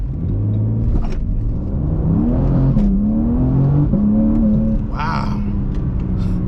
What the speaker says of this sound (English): See how the launch does.